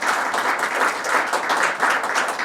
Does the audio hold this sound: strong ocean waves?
no